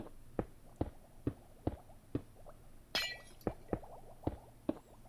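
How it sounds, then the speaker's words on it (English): Glass blocks are placed one by one in Minecraft, giving sharp glassy clicks at a steady rhythm, about ten in five seconds, with a single brighter crash partway through, all fairly quiet and clean. "So now let's border off this side with glass."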